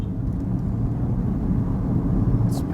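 A 2016 BMW M135i accelerates, and a steady low engine rumble is heard from inside the cabin at a smooth, even level.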